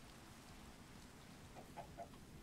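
Faint clucking from a chicken in Minecraft arrives as three brief, quiet blips late in the clip, over a constant low hiss with no talking.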